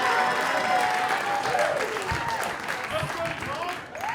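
A storytelling-night audience applauds as a storyteller is called to the stage, a dense, steady round of clapping with some crowd murmur that fades slightly toward the end.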